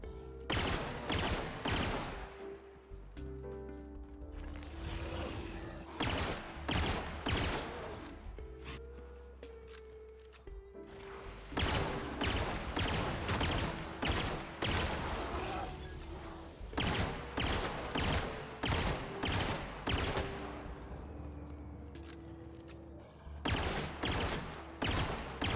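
Gunfire in the video game The Outer Worlds comes as loud, rapid bursts of automatic shots, repeated in clusters across the whole stretch, with brief lulls between volleys.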